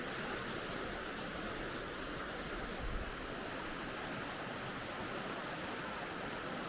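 Stream water runs near a little bridge in a steady, even, moderately soft rush that holds unchanged throughout, with no talking.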